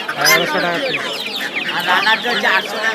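Chickens clucking at Galiff Street pet market in Kolkata, a close, busy run of overlapping clucks and squawks that continues throughout without pause.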